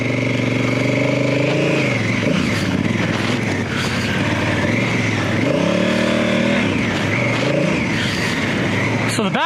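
Adventure motorcycle on Michelin Anakee tires churning through soft sand, its engine droning and revving up and down in waves, loud and close, with someone talking over it.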